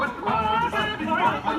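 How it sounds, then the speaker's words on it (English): A Muppet all-chicken chorus performs a stage number, bursts of vocal clucking and cackling in quick uneven rhythm, close and fairly loud, with the chicken sounds voiced by performers. "Kermit, the all-chicken chorus is ready for their big number. The cluck heard round the world."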